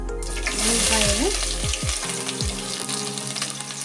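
Mustard seeds and cumin sizzle in hot oil in a small pan, a steady crackling hiss running throughout, with a faint voice and low sounds underneath.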